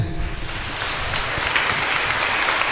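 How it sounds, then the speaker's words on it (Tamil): A church congregation applauds during a Tamil sermon, making a dense, steady roar of many hands that stays loud and unbroken throughout. "கைத்தட்டுங்க"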